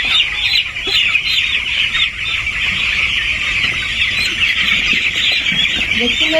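Chicks on a poultry farm, caught one by one for vaccination, keep up a constant dense chorus of shrill peeping and clucking, close and loud, with faint talk underneath.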